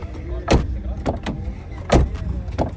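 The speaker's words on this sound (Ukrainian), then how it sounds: "Дивіться, як закриваються двері." Two pairs of solid thumps, a BMW car door shutting firmly each time, close by and crisp, with quiet room hum between.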